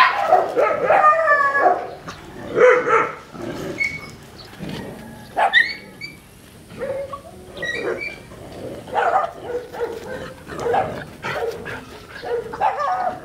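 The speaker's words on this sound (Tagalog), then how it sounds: "Ang mga barakong aso ko ay umaaligid sa cage ni Turkey dahil si Turkey ay in heat" Male dogs bark, yip and whimper around a cage holding a female in heat, close and loud in repeated uneven bursts throughout.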